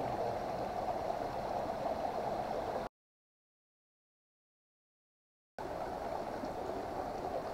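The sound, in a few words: river stream flowing at Mt Pinagdanlayan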